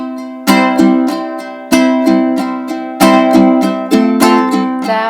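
Bright ukulele strumming in a steady backbeat pattern, with accented chord strokes repeating in a regular rhythm, close and clear with no voices.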